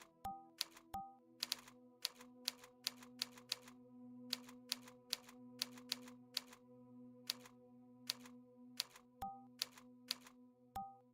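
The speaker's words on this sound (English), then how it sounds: "I think they left because I was typing." Rapid bursts of keyboard typing with loud, sharp key clacks come in irregular clusters over a steady low hum, close to the mic and alone, while a Unity3D game-development session runs.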